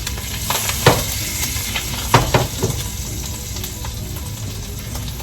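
Food sautéing in a pan on an electric stove while cooking on the road gives a steady, close, broadband sizzle throughout, broken by a few sharp scrapes and clacks of stirring utensils against the pan, with no voices.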